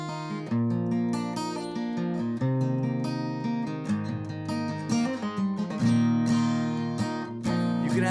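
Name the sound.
guitar open chords played with capo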